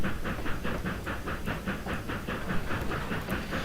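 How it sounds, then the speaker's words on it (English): A passenger train in the Trainz rail simulator rolls along with a regular, rhythmic clatter of wheels over rail joints and a soft steam hiss, moderately quiet and steady throughout. "Here comes the passenger train, y'all."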